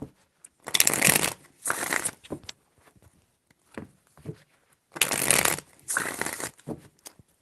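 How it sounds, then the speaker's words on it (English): Tarot cards being shuffled in two long bursts of riffling and sliding, each followed by a few softer taps and shuffles, close and fairly loud with no talking. "5 shuffles"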